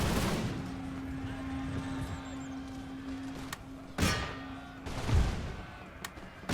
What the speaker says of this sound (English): Oh, they are firing by rank.